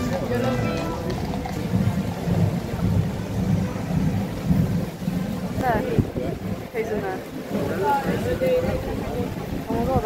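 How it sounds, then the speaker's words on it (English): Steady rain patters and rumbles throughout, fairly loud, while people talk excitedly over it. "Guys, it's raining."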